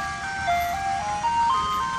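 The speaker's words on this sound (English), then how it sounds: "ice cream trucks that drive through your neighborhood." Ice cream truck jingle plays, a bright, tinkling tune of stepped notes, fairly loud and close, with faint road noise beneath.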